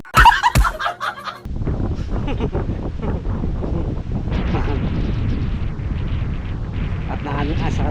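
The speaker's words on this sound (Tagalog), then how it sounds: "Lakas na yung ating hangin." Strong wind at sea buffets the microphone in a constant heavy roar after a few sharp bumps at the start, with a voice talking underneath.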